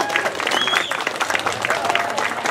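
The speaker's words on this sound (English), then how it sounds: "So let's give them a big round of applause just to get things started." Festival audience applauding songwriter performers at a showcase, a steady dense clapping from a crowd that runs the whole moment, with faint voices mixed in.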